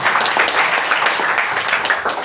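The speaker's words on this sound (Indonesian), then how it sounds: "Beri tepuk tangan buat Tuhan." A church congregation at a GBI Poles service claps together in a steady, dense wash of applause that fills the room evenly from start to finish.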